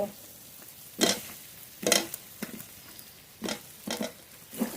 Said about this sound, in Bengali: ভেজে রাখা আলু দিয়ে দেব।